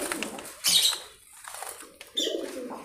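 Fancy pigeons being handled, with bursts of wing flapping and soft cooing, close by, in two main flurries separated by a quieter moment.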